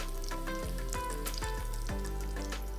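Bacon fries in a pan with a dense close sizzle and crackle, overlaid by a steady tonal hum and a series of descending sweeping tones.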